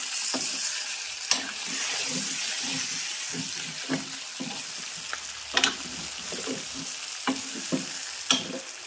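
Ridge gourd fries and sizzles in hot oil in a pan while being stirred, with a steady close sizzle broken by repeated scraping and clinking strokes of the spoon at irregular intervals.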